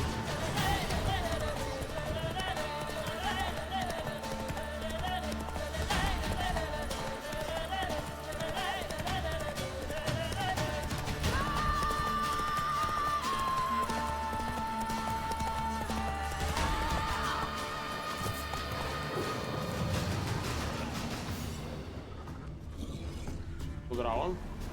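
Horse hooves clip-clop steadily with occasional neighs in The Witcher 3 video game, a continuous rhythmic trot under game music and mechanical effects, with someone talking over parts of it.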